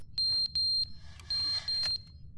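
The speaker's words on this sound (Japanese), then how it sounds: "何の音だこれ。 火災報知器の音？" A high electronic fire alarm in the video game The Stanley Parable beeps in short repeated bursts, four loud pulses with brief gaps and a fainter clatter between them.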